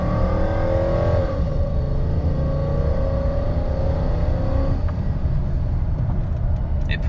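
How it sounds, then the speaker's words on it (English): A 2002 Toyota Tundra V8 pickup with 43,000 original miles, warmed up, revs hard under full throttle, its engine note climbing steadily in pitch through the gears, loud and close with no talking. "Okay, temperature is good, so I'll stomp on it and you can see the RPMs."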